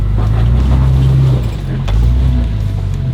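4x4 vehicle crawling slowly in low range first gear with front and rear lockers engaged, a loud close engine drone that dips briefly midway and then rises again, with no talking.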